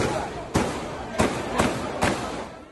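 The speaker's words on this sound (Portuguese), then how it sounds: "se ouve o som de tiros." Four sharp, loud cracks spaced about half a second apart ring out against a murky background, like a burst of gunshots.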